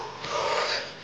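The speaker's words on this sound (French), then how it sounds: "J'arrive presque à l'essoufflement." Heavy, rasping out-of-breath panting from someone exerting themselves while walking, one loud breathy wheeze held close to the microphone with no speech.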